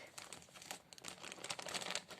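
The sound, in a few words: plastic shopping bag being opened and torn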